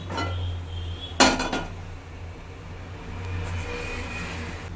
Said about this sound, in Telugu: గిన్నె పెట్టుకుందాం